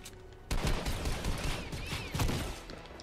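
Bursts of gunfire from a Fortnite match, a dense volley of loud rapid shots kicking in after a quiet half second and carrying on with a second heavy burst near the end.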